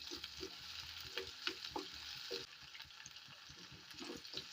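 Shallots sauté in a pan for an anchovy curry, giving a soft, continuous sizzle broken by light stirring scrapes. No one speaks.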